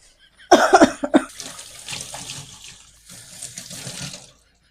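Water running from a tap while hands are washed, a close splashing stream with a few sharp bursts at the start and a cough, then steady flow that stops abruptly.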